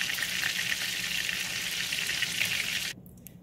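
A breaded cube steak, chicken-fried style, sizzles loudly and steadily in hot oil in a pan, then the frying sound cuts off sharply near the end, leaving only a few faint clicks.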